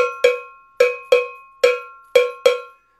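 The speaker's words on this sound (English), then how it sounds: "then of course, if it's noisy, then we've got to have a cowbell" Six sharp metallic cowbell strikes ring out in an uneven rhythm, each with a clear pitched clang that decays quickly, played alone and close with no talk.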